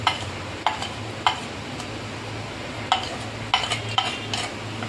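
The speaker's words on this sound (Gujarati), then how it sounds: "તો બધું એક વાટકીમાં આપણે મિક્સ કરી દઈશું." A spoon clinks against a bowl while spices such as mint powder and jaljeera masala are mixed, a handful of sharp metallic taps spaced out over a low background hum.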